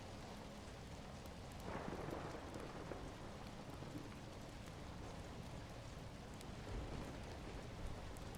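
Steady rain falls through the whole stretch, with a broad, dense hiss and faint low rumbles like distant thunder. No voice is heard.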